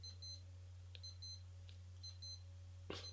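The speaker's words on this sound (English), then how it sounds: "there appears to be an alarm going off near me and I don't know where the hell it's coming from" An alarm goes off nearby as a faint electronic beeping in short repeated bursts of two or three tones, under a steady low hum.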